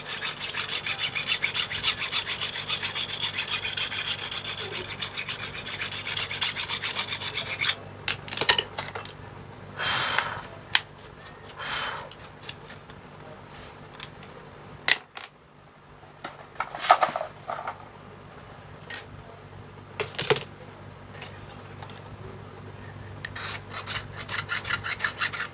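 Paint being rubbed and scraped off a chainsaw part until the bare metal shows, during a high-end Pro 1 chainsaw build. The strokes rasp steadily and continuously for several seconds, then break into scattered, louder scraping bursts with pauses between them.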